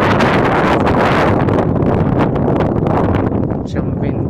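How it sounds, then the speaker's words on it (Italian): Strong wind buffets the microphone at the harbour of Marina di Casal Velino, loud rumbling gusts that roar continuously and ease slightly near the end. "C'è un ventaccio."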